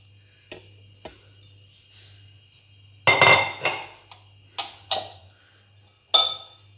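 Vegetables dropped into a cooking pot for red bean chaat, a few clinks and thuds followed by a louder rustling clatter and scattered knocks, close over a low steady hum.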